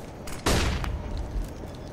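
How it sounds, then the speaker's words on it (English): Flashbang grenade going off on the Overgrown map in CS:GO, a single sharp loud bang that trails into a short ringing decay, with faint game noise around it. "Deploying flashbang."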